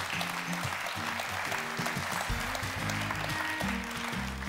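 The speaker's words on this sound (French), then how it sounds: "On peut les applaudir encore" An audience applauds at a French awards ceremony, a steady crowd clapping that runs throughout, layered over a loud droning musical backing with a low melodic line.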